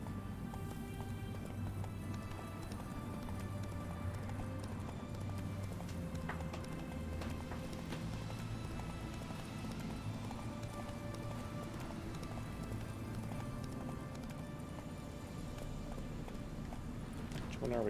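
Roach the horse galloping in The Witcher 3, steady hoofbeat clip-clop running continuously under a layer of game music and ambience, with a voice talking over it at times.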